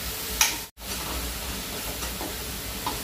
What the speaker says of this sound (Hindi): प्याज को एक मिनट भूनकर